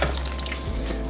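Water pours into a pot of beef stew with mushrooms, chickpeas and vegetables, a short steady splashing stream, close and fairly loud, with no speech.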